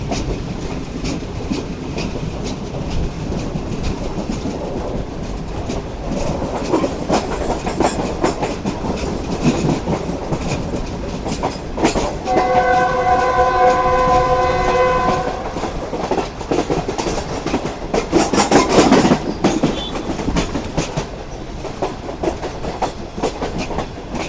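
The Pak Business Express passenger train, on the Karachi to Lahore route, pulls into Rahim Yar Khan railway station with a steady loud rumble and rattle of coaches, a sustained horn blast partway through, and clattering wheels continuing to the end.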